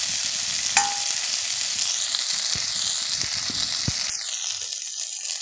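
Malabar spinach greens frying and being stirred in a pan: a continuous close sizzle broken by scraping stirs and a sharp clink near the start, with the hiss thinning toward the end.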